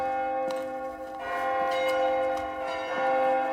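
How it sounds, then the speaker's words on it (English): Church bells rung by pulling their ropes in a manor house belfry, several overlapping ringing tones with repeated strikes sustaining throughout, fairly faint and alone. "and you begin to pull at the bell ropes."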